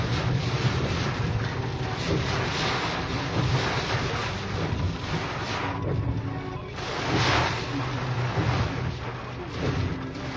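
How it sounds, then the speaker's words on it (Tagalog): Strong typhoon wind gusting with rain in Cebu City, a loud continuous roar with surging gusts and broadband noise buffeting the microphone throughout. "ang lakas ng hangin, malakas din ang ulan"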